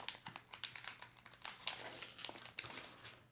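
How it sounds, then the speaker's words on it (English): A sticker sheet is handled and stickers are peeled and pressed on, giving close, light crinkling and crackling in irregular small bursts with quiet gaps between. "Put some stickers on."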